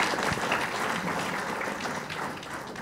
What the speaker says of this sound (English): So please, can we give them a big kind of applause?